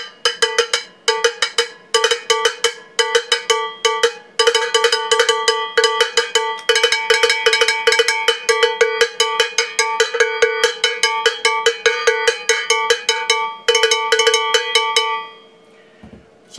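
A cowbell struck again and again in a steady, fast rhythm, bright metallic clanks ringing close and loud with no talk, stopping abruptly near the end.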